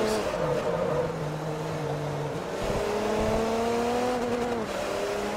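Race cars in Forza Motorsport 3 pass and lap slower cars, engines whining at high revs with pitch rising and falling through gear changes, a steady continuous roar throughout.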